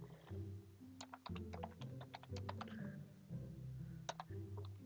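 Fast clicky typing on a computer keyboard, a quick run of sharp keystrokes in bursts over a low humming background, close and fairly quiet.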